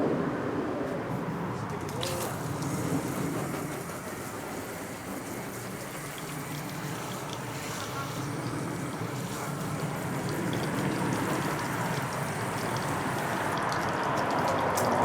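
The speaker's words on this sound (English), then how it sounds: "then we're going to rinse off with that garden hose" A garden hose rinses household cleaner off a convertible's fabric soft top, giving a steady broadband hiss of spraying and splashing water that runs unbroken and fairly close throughout.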